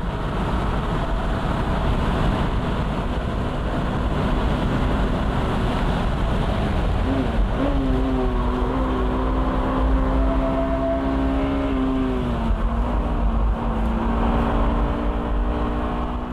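A Honda Type R race car driven at full throttle downhill on a track, its engine droning loud and steady with a rising, then falling pitch as it pulls hard through the lap.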